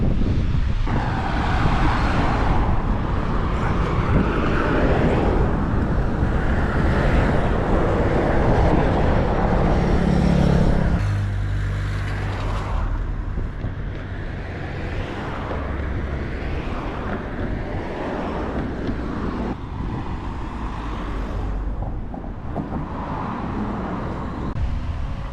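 Strong gusts buffet the microphone in a steady, loud roar with low rumble while walking the Camino de Santiago route from Porto toward Santiago de Compostela, swelling and easing without letup.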